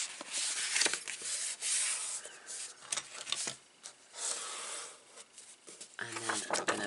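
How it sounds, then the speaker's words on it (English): Folded cardstock being burnished by hand for a double pocket fold card, giving repeated soft rubbing and scraping strokes at close range, steady with brief pauses and a slightly heavier handling sound near the end. "And then we're going to burnish it the other way."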